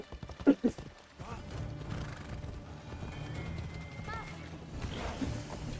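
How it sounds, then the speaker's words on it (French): A horse passing by in the ancient Greek world of Assassin's Creed Odyssey, near Sparta: a loud whinny and snorts at the start, then hoof clip-clops and ambient game noise with people talking over it. "Ils n'ont pas l'air gênés par le cheval qui passe"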